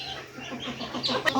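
Farmyard chickens cluck in scattered soft calls, with a sharper bird call near the end, against a quiet rural background on a rainy day.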